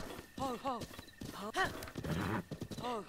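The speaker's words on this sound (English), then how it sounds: "Hey, we got a royal horse" A royal horse in The Legend of Zelda: Breath of the Wild, heard as hoof clip-clops and a few whinnies, fairly quiet, mixed with a person speaking.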